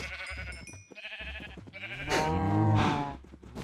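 Sheep in the video game Minecraft bleat several times in a row, wavering nasal calls that swell louder toward the end, close and clear over faint game ambience.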